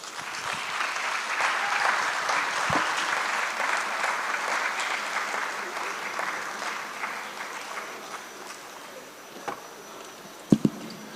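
A conference audience at a social impact summit gives sustained applause, a dense wash of clapping that holds steady and then tapers off, with a few isolated claps near the end.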